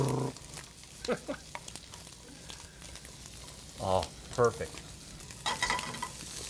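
Chicken sizzles and crackles steadily in a pan, with scraping stir sounds and a brief spoken remark over the frying.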